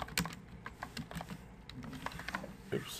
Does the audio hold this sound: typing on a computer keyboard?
yes